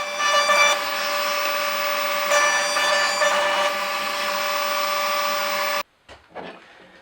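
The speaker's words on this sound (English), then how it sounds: "I can run one side through the chamfer bit and as one unit" A router table with a chamfer bit cutting clamped wooden bench parts, a loud continuous high whine with pitch wobbles as the wood feeds through, then the motor stops and spins down into quiet clatter.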